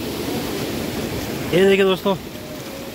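Bilangana river running high and swollen by steady rain, a constant broad rushing roar throughout, with someone speaking briefly over it midway.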